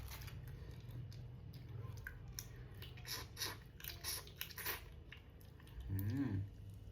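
Raw mantis shrimp is chewed up close with quiet, wet, crunchy bites in an irregular rhythm, and a short vocal sound comes near the end.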